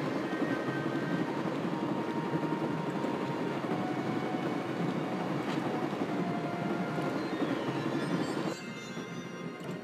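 Continuous train riding noise from the video game Baphomets Fluch, a steady broadband rumble of rolling carriages that fills the whole stretch and drops slightly in level near the end.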